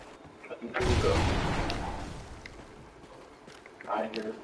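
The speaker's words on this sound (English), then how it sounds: "I hear fireworks." Gunfire in the Call of Duty Ghosts video game, heard as fireworks: a sudden loud burst of shots rolls into a long, slowly fading rumble, with a voice rising briefly near the end.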